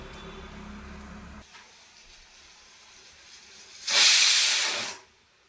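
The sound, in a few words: pressure cooker whistle while cooking dal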